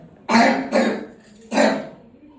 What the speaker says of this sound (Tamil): என்ன காஃப் இருக்கு பாருங்க